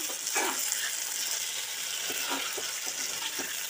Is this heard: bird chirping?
no